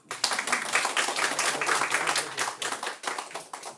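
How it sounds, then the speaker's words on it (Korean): An audience at a Gimpo social economy discussion forum claps in a brisk, dense burst of applause that starts abruptly and holds steady for several seconds before tapering, with no voices over it. "위원님 박수로 받고"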